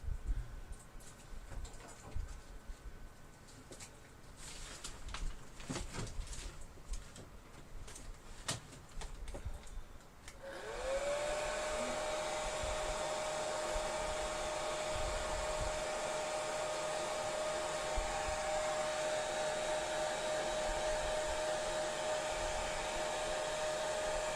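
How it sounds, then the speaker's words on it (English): A hair dryer switches on partway through and blows in a steady, loud whoosh with a thin whine over it, drying tea- and coffee-dyed paper. Faint bird coos and light tapping can be heard before it starts. "I think we can just use the blow dryer on those and dry those real quick."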